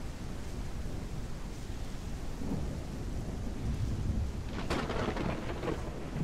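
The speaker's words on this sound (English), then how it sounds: "And loud now because of the rain." Steady rain and rolling thunder in the Gothic 1 Unreal Engine remake video game, a constant loud downpour hiss with low rumbling throughout and a sharper crack near the end.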